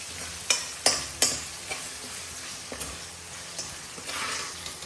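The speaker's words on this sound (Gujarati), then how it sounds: "એકાદ મિનિટ જેમ સસડવા દઈશું તેલમાં એટલે એકદમ બટાકાની ફરાળી ચિપ્સ થઈ જશે" Potato slices fry in hot oil into fasting-style chips, giving a faint, steady sizzle broken by a few sharp clacks of stirring near the start.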